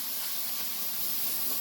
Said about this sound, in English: I got my canned air. What I'm going to do is just give it a good spritz